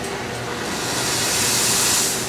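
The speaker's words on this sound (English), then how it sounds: "when the steam comes out, it's almost clear because there's not much moisture in it" Dry steam hisses from a steam line in a dry cleaning plant, a close, continuous broadband hiss that grows slightly louder and brighter toward the end.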